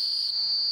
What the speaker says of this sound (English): That staccato whistle, the comeback call